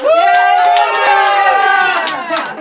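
Live concert audience in Grants Pass, Oregon cheering and yelling loudly, a dense roar of voices with whoops and claps that stays strong and then eases slightly over a few seconds.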